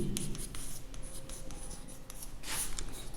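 Pen writing by hand on paper during a maths lesson, quick scratchy strokes in short bursts, close and fairly quiet, with no talk.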